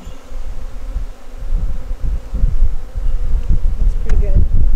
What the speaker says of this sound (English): But they were good bees.